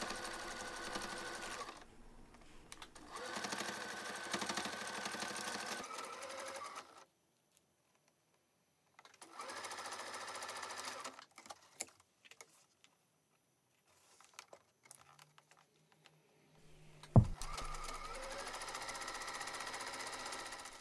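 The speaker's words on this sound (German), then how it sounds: "Und dann werden die Teile dort zusammengenäht." Domestic sewing machine stitching fabric pieces of a small zippered bag together, with several close bursts of rapid mechanical whirring separated by quiet pauses and a short clack near the end.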